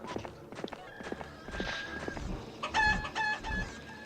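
Chickens cluck and crow in the fantasy strategy game Heroes of Might and Magic IV, with short rhythmic clip-clop beats and bright tonal game chimes layered over the birdsong at moderate loudness.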